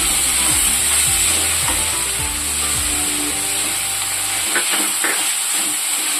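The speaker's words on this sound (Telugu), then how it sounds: "ఒక టూ త్రీ మినిట్స్ వేయించుకోవాలి" Three medium country tomatoes fry in a pan for tomato bath, giving a loud, steady close sizzle and hiss with stirring, while a low droning hum fades out partway through.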